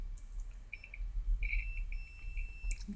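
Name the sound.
avometer continuity test buzzer sounding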